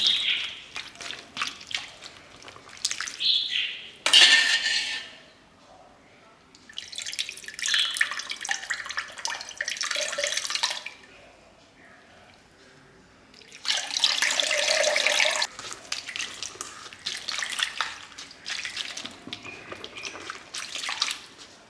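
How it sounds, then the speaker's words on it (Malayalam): Running tap water pouring onto butter being washed during homemade ghee preparation, coming in several bursts of splashing flow separated by quieter pauses with faint drips and handling. "വെള്ളം ഒഴിച്ച് കഴുകാം."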